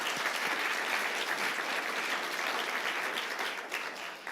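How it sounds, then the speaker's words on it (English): A dense, even wash of clapping from a large audience at a global social innovation challenge finals. The applause holds steady throughout and tapers slightly at the end, with no one talking. "So let's give them a round of applause."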